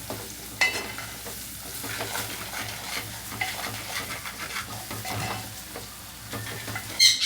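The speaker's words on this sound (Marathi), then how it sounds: "मसाल्यानं आपल्याला शिजवून घ्यायचं आहे" Shrimp cooking with masala, salt and turmeric in a pan, with a steady close sizzle and frying hiss and occasional stirring scrapes and clinks, and no talk.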